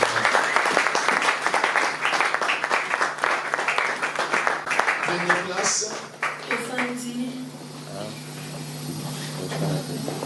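A church congregation applauds in a dense, loud wash of clapping that gradually thins out, with voices rising over it as the applause fades.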